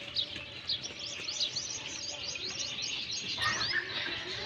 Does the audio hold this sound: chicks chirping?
yes